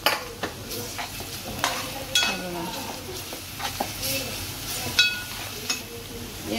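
Onions frying in a pan with ginger-garlic paste stirred in while cooking an Agri-style shevla vegetable curry, with a steady sizzle under repeated scraping and clinking of a spoon against the pot.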